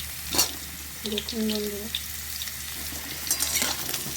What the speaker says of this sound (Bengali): পেঁপে গাজর দিয়ে দিলাম,